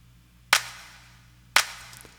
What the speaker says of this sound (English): this is 4 claps